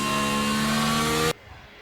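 Formula 1 race car engines in F1 Manager 23 at Abu Dhabi, a steady loud high-pitched whine that cuts off abruptly, leaving near silence.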